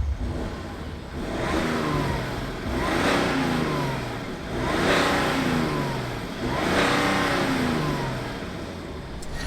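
BMW 335d xDrive diesel accelerating hard through several gears, the engine rising in pitch in repeated sweeps with brief dips at each shift, heard steadily from inside the car.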